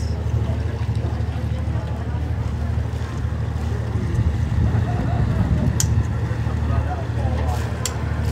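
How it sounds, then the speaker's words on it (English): Steady low engine drone from a dolphin cruise boat on Jervis Bay, Australia, running continuously with wind buffeting the microphone and water noise over it, plus faint voices in the background. "Okay, we're on the go now. Can hear the engines."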